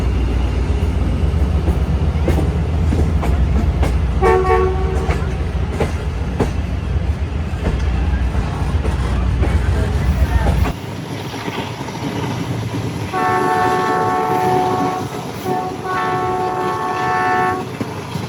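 Jaffar Express passenger train approaching along a railway track, a loud continuous rumble with repeated horn blasts, the horn sounding twice in the second half.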